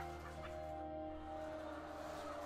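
Egg-laying hens crowded in battery cages inside a shed: scattered soft clucks and fowl calls, fairly faint, over a constant droning machinery hum.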